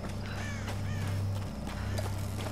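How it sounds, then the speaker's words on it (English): Crows cawing in the video game Tomb Raider on PC, a few harsh calls close by over a low steady game ambience. "Ah, crows flew at us."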